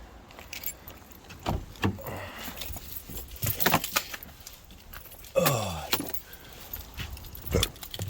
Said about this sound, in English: There's my keys in my pocket.